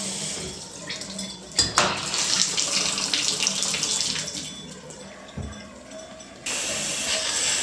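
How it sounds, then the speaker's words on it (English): Hotel shower running with a steady hiss of spraying water, interrupted by a few handling knocks, then shut off and briefly turned back on near the end. "Also, when you turn off the shower,"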